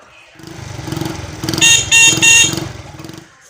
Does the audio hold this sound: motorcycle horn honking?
yes